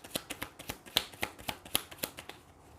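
Tarot cards shuffled close up, with a quick, regular series of about ten crisp riffling flicks over under three seconds.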